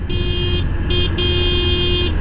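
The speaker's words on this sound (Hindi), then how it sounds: "इसके अलावा हॉर्न की आवाज़ भी सुना देते हैं" Horn of a Yamaha FZ-S V3.0 150cc motorcycle, loud and close, sounding as a steady tone broken by two short gaps, with an engine idling underneath.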